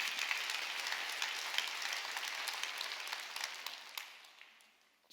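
A church congregation applauds during a Sunday worship service, a steady wash of many hands clapping that gradually fades out, with no talking over it.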